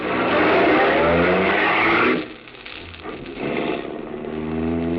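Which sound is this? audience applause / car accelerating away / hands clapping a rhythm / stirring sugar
car accelerating away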